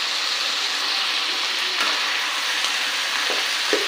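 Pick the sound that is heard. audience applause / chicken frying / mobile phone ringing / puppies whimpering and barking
chicken frying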